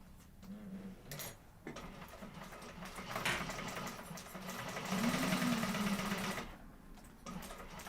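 A sewing machine stitches long basting seams to join fabric pieces for a sling bag, a steady mechanical whirring that runs in bursts and stops briefly, fairly close and moderately loud with no talk over it.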